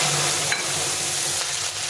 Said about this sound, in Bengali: এখন এর মধ্যে আদা জিরে বাটাটা দিয়ে দিচ্ছি।